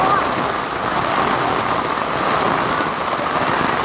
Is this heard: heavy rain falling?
yes